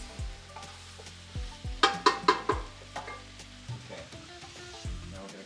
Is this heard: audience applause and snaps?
no